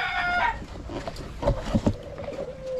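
Heritage chickens nearby: a rooster's crow opens, followed by a few short clucks against low background noise.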